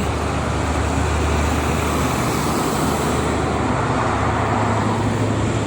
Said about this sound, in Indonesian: Ini didominasi oleh kendaraan truk pagi-pagi, truk angkutan barang.